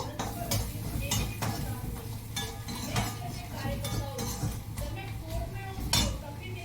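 Turmeric powder being stirred in a pan for a ridge gourd curry, a spoon scraping and clinking against the metal in an irregular rhythm, close and moderately loud over a faint background hum.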